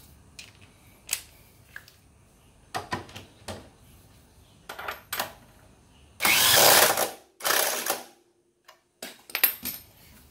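Wrench tightening a 14 mm bolt on a Honda PCX scooter during front fender work: a series of sharp metallic clicks and clanks, with a louder extended rasping burst in the middle, close and alone.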